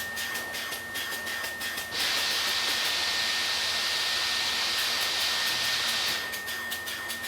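Spray gun applying Line-X protective coating to a product in a factory, a loud steady hiss lasting about four seconds, set between quieter intermittent bursts of spray.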